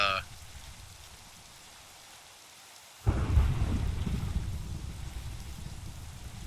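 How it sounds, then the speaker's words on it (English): Rain and thunder in the video game Minecraft: steady rainfall hiss, then a loud rumbling thunderclap about halfway through that rolls on beneath continuing rain. "why is it raining again already?"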